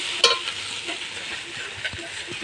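Lati curry cooking in a pan gives a steady bright sizzle, with a sharp scrape or clink near the start and a few soft knocks of stirring later.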